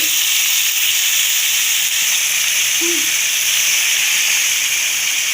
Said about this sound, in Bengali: মশলাটা কষানো হয়ে গেছে এবার আমরা দিয়ে দিলাম ভালো করে পরিষ্কার করে রাখা চিকেনগুলো